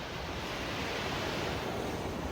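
Surf rushing steadily against the shore at Karwar, Karnataka, a dense unbroken wash of ocean noise with light wind.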